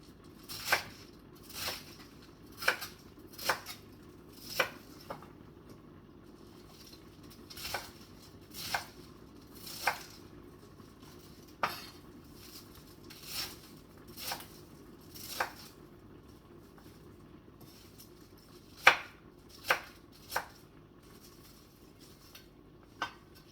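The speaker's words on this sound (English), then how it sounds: "I'm cutting up my cabbage, going to my veggie pasta" A knife chops cabbage for veggie pasta on a board, with about a dozen crisp separate thuds at an uneven pace, close and fairly quiet against a low background hum.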